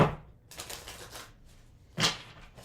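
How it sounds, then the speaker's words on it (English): A tarot card deck is shuffled in quick riffling bursts, a crisp papery flutter lasting about a second, then a short sharp snap of cards, close and fairly quiet. "Let's do one more shuffle."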